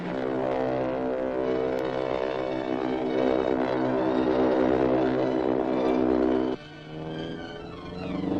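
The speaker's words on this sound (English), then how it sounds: "I can hear the plane coming." A propeller airplane from a 1941 film serial drones steadily and loudly, its engine tone rough and continuous, then shifts and drops in level near the end as the pitch changes.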